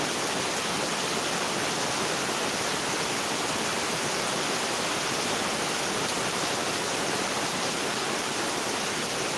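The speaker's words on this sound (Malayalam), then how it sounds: "എത്ര കേട്ടാലും മതി വരാത്ത ശബ്ദം അതാണ് മഴയുടെ ശബ്ദം" Dense, heavy rain pours steadily in a constant broadband roar, loud and unbroken, with no voices.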